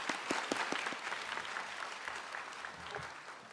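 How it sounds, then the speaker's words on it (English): Audience at a grade 5 promotion ceremony gives a round of applause, a full, continuous crowd clapping heard at some distance, with a scattering of louder individual claps over the steady wash. "Let's give them all a round of applause."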